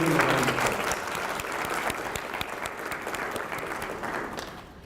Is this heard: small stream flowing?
no